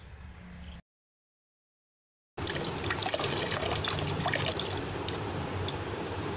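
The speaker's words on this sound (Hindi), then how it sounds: "तो अभी इनको डालते हैं पानी के अंदर।" Water splashes and trickles steadily as baby fish are poured into a tub of water, close and continuous, following a short stretch of quieter background sound and a brief silence.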